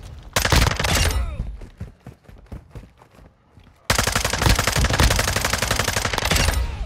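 A Hurricane gun in Call of Duty fires loud rapid automatic bursts, drops to sparser shots for a few seconds, then resumes in a dense sustained stream.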